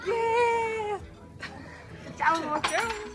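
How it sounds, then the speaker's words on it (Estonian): A pet cat meows in a drawn-out, tonal cry, followed after a short pause by two more rising meows, close and clear, with some faint background noise. "Siis meie kass vaatab ennast peeglis."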